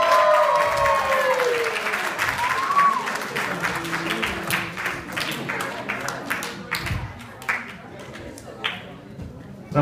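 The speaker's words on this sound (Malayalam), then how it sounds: "എല്ലാവരും കൈയടിച്ച്" An audience at an Onam celebration claps to welcome Maveli, a scattered patter of hands that grows into steady applause, with voices and an announcer heard over it at the start.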